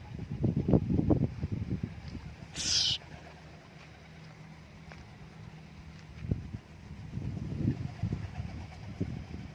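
Homing pigeons coo in low, throaty bursts near the start and again toward the end, with a quieter stretch between and a brief hiss of background noise.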